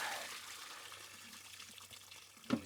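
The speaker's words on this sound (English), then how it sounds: "tilt it, pour all that water out" Water pours out of a tilted pot of freshly cooked sweet corn, a soft running splash through most of the clip that ends in a brief louder slosh near the close.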